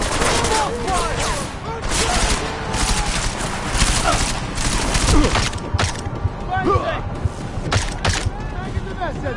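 Dense, continuous automatic gunfire with layered bursts and sharp impacts in a video game battle, loud and close throughout, with shouted voices breaking through the shooting.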